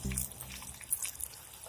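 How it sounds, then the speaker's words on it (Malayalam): Water poured from a cup into a cooking pot of broken rice for upma, two cups to one of rice, with a quiet, close trickle and light splashing for a moment. "ഇതിലേക്ക് വെള്ളം ഒഴിച്ചു കൊടുക്കാം"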